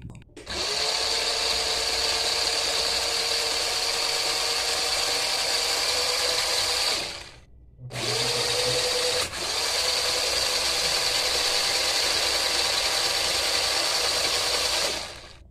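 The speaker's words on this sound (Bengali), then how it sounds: "আরডুইনো এমনভাবে কোড করেছি যাতে প্রথম 2 সেকেন্ড চাকা সামনে ঘোরে, তারপরে 1 সেকেন্ড অফ থাকে এবং তারপরে 2 সেকেন্ড পিছনে ঘোরে" A small Arduino-controlled DC motor drives a wheel, whining steadily for about seven seconds, cutting out briefly, then whirring again in reverse with a slightly different pitch, close and loud with no talking.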